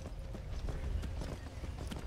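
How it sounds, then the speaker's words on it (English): Horse hooves clopping in Skyrim, a steady rhythm of soft thuds that runs through the whole stretch at moderate loudness, with no talk over it. "My horse is here!"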